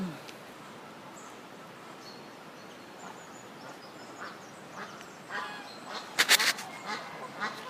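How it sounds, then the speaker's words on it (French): Ducks quacking in short bursts beside a flooded river, faint at first then a louder cluster of quacks nearby, over outdoor ambience with a voice speaking. "vous avez même les canards qui en profitent"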